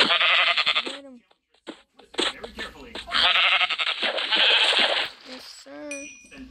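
Sheep bleat repeatedly in a Minecraft game, wavering cries that come loud and close, set between bursts of lively talk from a player.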